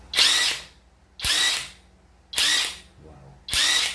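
A TIO MOON WHT80S high-torque impact wrench unscrews a nut in four loud, close bursts of about half a second each, its rattling whir starting abruptly and stopping between short pauses.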